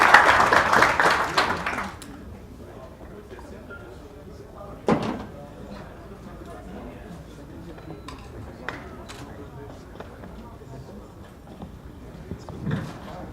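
Applause fills an auditorium for the first two seconds, a dense burst of clapping that fades out before a person begins speaking, with a few thumps and knocks scattered afterward.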